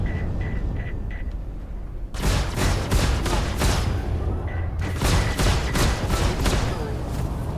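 Rapid volleys of weapon fire in a Star Citizen space-combat game, loud bursts of repeated shots starting after a quieter stretch with faint beeping tones, then continuing in dense clusters.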